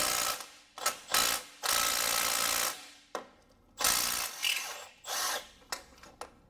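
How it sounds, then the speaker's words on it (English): Impact wrench loosening a starter bolt on a Toyota Yaris, rattling out in several loud hammering bursts of varying length separated by short pauses, close up with no talk. "I'm just going to use my impact wrench there to get this off"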